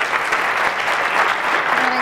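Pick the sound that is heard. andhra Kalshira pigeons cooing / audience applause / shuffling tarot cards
audience applause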